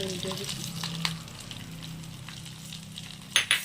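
Hot tempering poured into buttermilk curry (mor kuzhambu) gives a soft hiss and bubbling. A couple of sharp clinks follow near the end.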